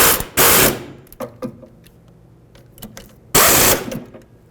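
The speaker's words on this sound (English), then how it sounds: "Snug them up and then torque these to 32 foot-pounds." A power tool tightens bolts on a 2001-2007 Toyota Highlander rear hub and bearing assembly, with two loud close ratcheting bursts at the start and end and scattered clicks and clanks of tool handling between them.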